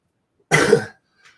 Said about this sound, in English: Excuse my bad cough still.